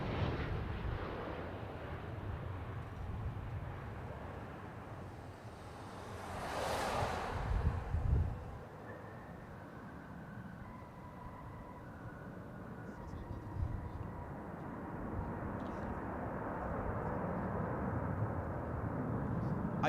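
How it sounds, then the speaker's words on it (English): A Boeing 737-700 airliner on Velocity Flight 526 from the Gold Coast lands on runway 25, a faint, distant jet roar that swells briefly, then trails off into steady wind buffeting the microphone. "Now coming in on runway 25, Velocity Flight 526 from the Gold Coast, a Boeing"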